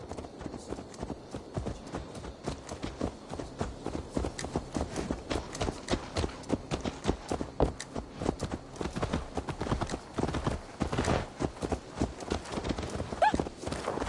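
Horse hooves clip-clop steadily in the Assassin's Creed Valhalla video game, a dense run of close, rhythmic hoof strikes lasting throughout, with a faint whinny near the end.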